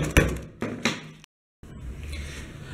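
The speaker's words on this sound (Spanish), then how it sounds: "uso el martillo y ya con eso termino de encajarlas." A hammer taps wooden painting stretcher bars into place with three sharp knocks close by, each ringing briefly, then a short silence followed by a dull sustained rustle of handling.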